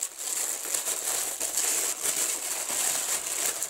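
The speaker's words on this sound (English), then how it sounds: "Sorry about the crinkling, guys." Plastic packaging crinkles and rustles while happy mail is unwrapped, a steady, close run of crisp crackling bursts at moderate loudness that stops only briefly between handlings.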